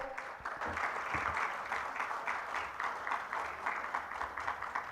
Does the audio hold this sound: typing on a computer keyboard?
no